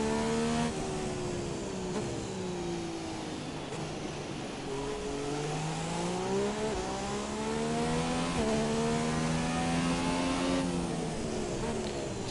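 A black and orange McLaren F1 car in the racing game F1 2017, qualifying at Spain, its engine droning steadily and rising and falling in pitch through gear changes over the whole stretch, loud and continuous with no talk.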